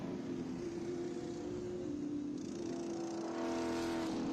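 A 2012–2013 Howe TA2 chassis race car passes through a section of road course during an SVRA SpeedTour event in New Jersey, its steady engine drone holding loud and close throughout, swelling slightly near the end.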